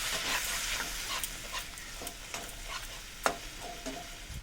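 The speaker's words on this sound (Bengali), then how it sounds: "গ্যাসের আঁচটা বাড়িয়ে নেব, দিয়ে আবারও ভালো করে মশলাটাকে কষবো।" Masala paste for a crab pickle being stirred and fried in a pan over a raised gas flame, with soft continuous sizzling broken by scraping stir strokes and a sharp clatter near the end, fairly quiet and with no talking.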